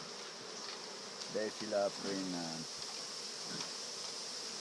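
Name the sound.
honey bees buzzing during hive inspection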